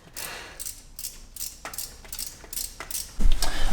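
A ratcheting wrench turning a bolt while removing the transfer case from a Mitsubishi Evo IX, rapid bursts of close mechanical clicking in short repeated strokes, ending with a heavier clunk.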